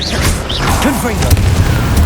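Confringo explosion spell cast in Hogwarts Legacy, a short booming blast with crackling pops and whooshing magical effects, mixed with game combat noise.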